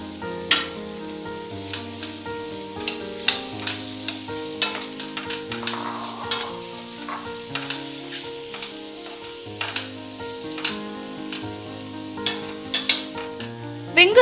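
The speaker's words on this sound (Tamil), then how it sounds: "3 பெரிய வெங்காயத்தை இந்த மாதிரி நைஸா கட் பண்ணிட்டு சேர்த்துக்கலாம்." Finely sliced large onions frying in a pan for an egg roast masala, after ginger and garlic, with a steady soft sizzle and occasional clinks and scrapes of stirring, no voices.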